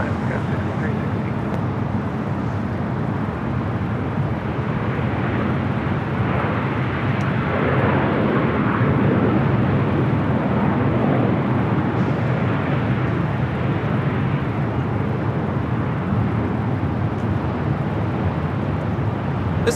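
Alaska Airlines Boeing 737-900ER arriving from Portland, Oregon, landing on runway 24 right at LAX: a steady, loud broadband jet roar that holds throughout with a slight swell midway, with voices talking faintly underneath.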